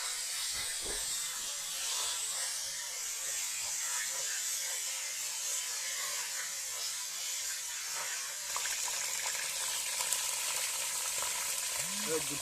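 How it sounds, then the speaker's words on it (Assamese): Meat sizzles steadily in a hot pan for home cooking alongside potatoes and onions, a loud, continuous hissing fry that persists throughout with small crackles and no pauses. "এইবাৰ আমি দিলোঁ মাংসটো বহাই।"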